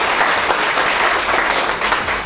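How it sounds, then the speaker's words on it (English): Loud, dense audience applause for a department head at a university freshers orientation, a continuous wash of many clapping hands from start to finish. "So let us give a big applause for him."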